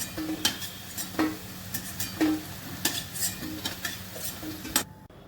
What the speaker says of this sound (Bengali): গরম মশলা শুকনো লঙ্কা আর জিরে ফোড়ন করলাম